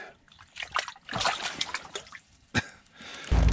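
A bluegill caught through a hole in the ice is dropped back down the fishing hole, giving a few wet splashes and sloshes of water, close by and fairly loud.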